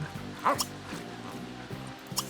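A dog in The Sims 3 gives a few short yips and barks, up close and fairly loud, under game background music.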